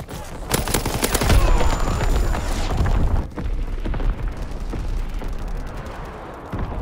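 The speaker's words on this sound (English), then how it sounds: "Coordinates confirmed. Firing on target." Artillery strike in Call of Duty WWII pounding a target: a dense, loud barrage of booms and rapid gunfire crashes for about three seconds, then rumbling blasts continue at lower intensity.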